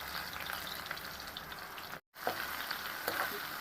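Chopped onions and curry leaves fry in hot oil after the tempering seeds have crackled. The sizzle is steady and close, with a brief cut partway through and faint stirring sounds.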